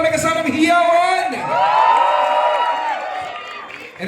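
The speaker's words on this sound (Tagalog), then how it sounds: "Palakpakan may kasamang hiyawan!" A crowd at a red-carpet film premiere in Manila cheers and whoops with some clapping, loud and close, with a voice prominent through the burst.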